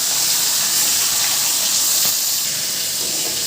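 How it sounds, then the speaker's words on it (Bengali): Chicken frying in hot oil, a loud, dense, continuous sizzling hiss that holds steady throughout with no voices. "মাংসটাকে ভালো করে ভেজে নেবেন"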